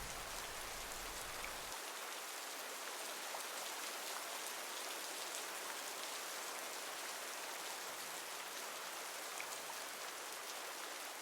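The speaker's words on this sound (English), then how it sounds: "listen to the raindrops pattering off the tree's canopy." Steady rain pattering through a tree canopy, a dense continuous hiss of drops on leaves, close and even throughout with no voices.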